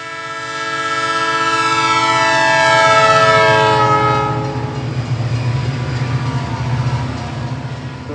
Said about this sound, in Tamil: இந்த தடத்தில் சரக்கு ரயில்கள் மட்டுமே தினமும் பல முறை சென்று வருகின்றன